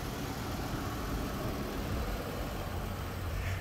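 A 2017 Infiniti QX60 SUV idles with a steady, even low rumble that holds unbroken throughout, with no voices over it.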